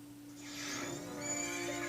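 Horse neighing in the video game The Legend of Zelda: Majora's Mask, a single clear whinny lasting under two seconds over a steady background hum.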